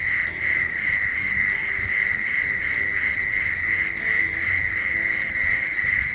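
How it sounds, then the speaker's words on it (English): Several prairie mole crickets call together in a lek, their overlapping songs merging into a loud, steady buzzing trill with a faint pulsing texture, set against a quiet outdoor background. "This is how it sounds when several prairie mole crickets are calling simultaneously."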